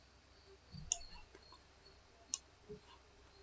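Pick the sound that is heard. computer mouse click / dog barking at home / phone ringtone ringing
computer mouse click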